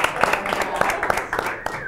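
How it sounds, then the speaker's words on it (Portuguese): Scattered studio applause on the set of a Brazilian sports show, sparse claps popping at irregular intervals beneath ongoing talk and room noise. "Esses aplausos aqui são..."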